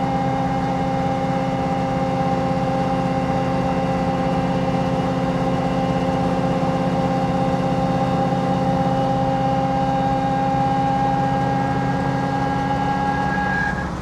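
A car with its sway bars removed cruises at around 50 mph. The engine drones steadily and loudly from inside the cabin, with a constant hum that barely changes pitch for the whole stretch.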